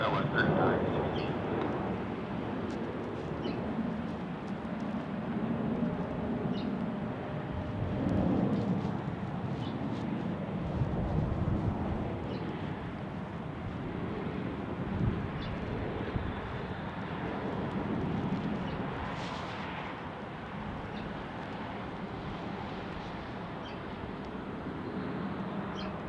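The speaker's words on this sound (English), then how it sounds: "The old CRJ 200 headed off to Cedar City." SkyWest CRJ 200 jet airliner taxiing at Salt Lake City International Airport, heard as a sustained distant jet engine rumble and whine that swells and fades, with voices talking intermittently over it.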